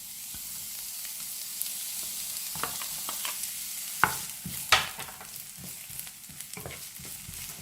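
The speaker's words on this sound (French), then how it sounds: "on va commencer par faire revenir les oignons" Onions frying in a pan, a soft continuous sizzle with a few scrapes and clicks of stirring breaking through, fairly quiet and close.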